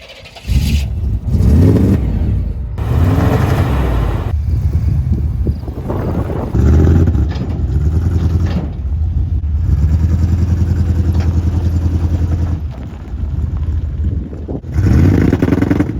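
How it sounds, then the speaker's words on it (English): Chevy 350 V8 in a pickup truck running rough and missing, loud close idle with a lumpy uneven rhythm, broken by bursts of revving and short pauses. "after a fuel pump, an alternator, and a battery, this truck is still running like crap"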